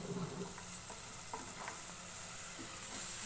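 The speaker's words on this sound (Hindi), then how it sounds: "गाजर को 1 मिनट के लिए प्याज और लहसुन के साथ फ्राई करेंगे।" Chopped carrots frying with onion and garlic in a pan for mixed vegetable soup, giving a steady soft sizzle with faint scraping stirs and light taps throughout, close and without talk.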